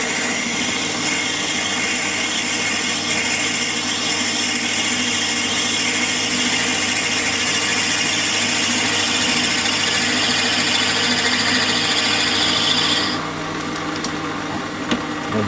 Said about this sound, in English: I'm only going to part 2 pieces off, just under 2mm wide.